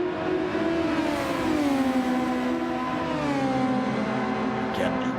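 Super Formula race car spinning a wheel at Fuji International Speedway, a loud, high engine note rising and falling as revs flare, heard steadily through a broadcast mix.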